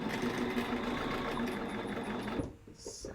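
A sewing machine runs steadily while stitching the last seam of a basket quilt block, a continuous close mechanical whirr that cuts off near the end, followed by a faint short noise.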